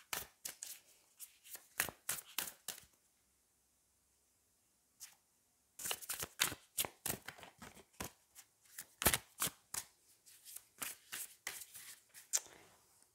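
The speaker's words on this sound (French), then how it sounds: "on a vraiment ma qualité de carte idéale ici. Elles sont tellement agréables à manipuler, elles font un bruit que j'adore" Wild Unknown tarot cards are shuffled by hand in close, crisp bursts of riffling and flicking, pausing briefly before resuming in a quiet room.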